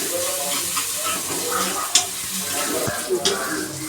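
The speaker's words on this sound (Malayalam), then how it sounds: "അപ്പോൾ അതിലേക്ക് നമുക്ക് ഉള്ളി പൊരിച്ചിടാം." Sliced onions fry in hot coconut oil in a pan for a prawn dish, a loud, close, continuous sizzle and crackle with a couple of sharper stirring knocks.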